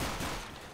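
Gunfire in the video game CS:GO during a co-op mission, a short loud burst of rapid shots that decays over less than a second.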